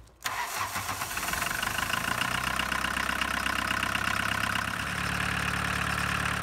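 A 1985 Volkswagen 1.6L diesel engine cranks briefly after glow plug warm-up, catches, and settles into a steady, close, clattering idle.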